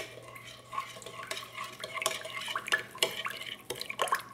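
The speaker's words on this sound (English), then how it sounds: "So we're gonna stir this up." A spoon stirs yeast, honey and warm water in a bowl, producing quiet liquid swishing with irregular clinks and taps of metal against the container, close and fairly soft.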